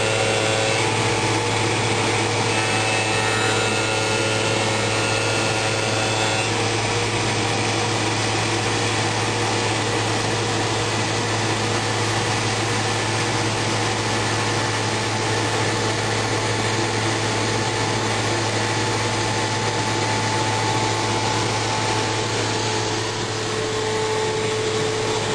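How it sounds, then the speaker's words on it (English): A machine that bevels edges and applies colored foil to a wood plaque runs loudly and continuously at close range, a steady whining motor drone with a constant hum beneath and no pauses. "Ready to make the beveled edge and apply the colored foil on the same machine, one side at a time."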